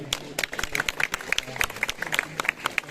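Students at a college Women's Entrepreneurship Day event clap for the organising committee, a lively scatter of sharp individual claps from a modest group, fairly close, with a voice murmuring beneath.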